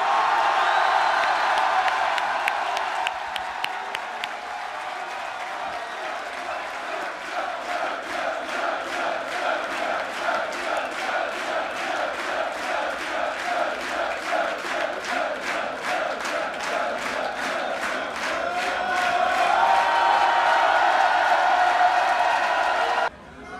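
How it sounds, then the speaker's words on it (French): A rally crowd for Jean-Luc Mélenchon bursts into sustained applause and cheering, with rhythmic chanted clapping in a steady beat running through most of it, a large roaring mass that stays loud throughout. "Et je vous demande donc un tonnerre d'applaudissements"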